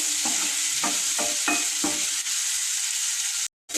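Spices of cumin powder and garam masala sizzle steadily in a hot pan while a spoon scrapes and stirs in several quick, rhythmic strokes, close and loud, before stopping abruptly.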